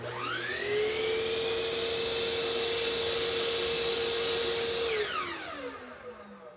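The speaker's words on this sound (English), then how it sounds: "I've set up a simple jig on my miter saw, and I'm going to make that cut" A miter saw set in a simple jig spins up and cuts through wood and a little aluminum, giving a rising whine, a steady high cutting tone, then a falling pitch as the blade winds down. It is close and loud, with no talking.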